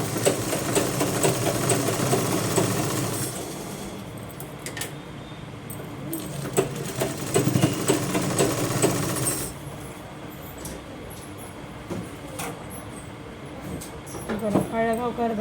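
A sewing machine stitches a blouse neck in bursts of fast, rattling, mechanical stitching, loud and close, broken by pauses and small clicks of fabric handling, with someone talking between runs.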